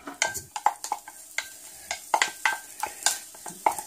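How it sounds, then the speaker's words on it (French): Parsley and garlic fry in a hot pan for a paella, a soft sizzle broken by irregular clicks and scrapes of stirring at close range. "le persil et l'ail. Voilà. On fait bien griller ça."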